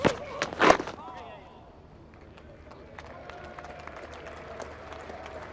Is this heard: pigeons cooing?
no